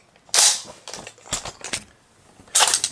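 Sharp mechanical clacks from the imitation bolt being racked on a Dboy SCAR-L airsoft rifle: a loud snap, a few lighter clicks, then another hard snap, close up with no speech.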